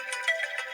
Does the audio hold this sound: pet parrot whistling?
no